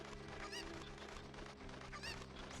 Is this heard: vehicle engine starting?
no